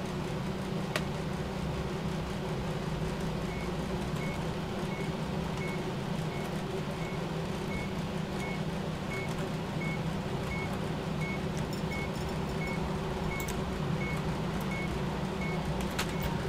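A signal jammer in GTA 5 beeps during the Bank Contract heist: evenly spaced, faint beeps continue throughout over a constant hum of vehicle and ambient game noise.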